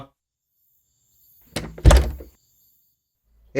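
A door in a house opens with a single clunking thud followed by a short rattling scrape, loud and close, with silence before and after.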